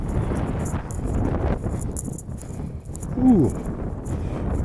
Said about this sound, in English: That wind is cold.